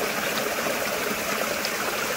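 Water flowing steadily into the intake of an off-grid micro hydro turbine, a constant close broadband rush and trickle with no breaks and no talking.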